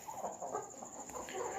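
A white Aseel rooster clucks softly in short repeated bursts over a steady high-pitched background tone.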